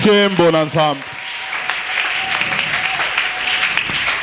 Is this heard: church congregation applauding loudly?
yes